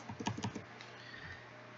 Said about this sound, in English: typing on this sometimes can be a little bit cumbersome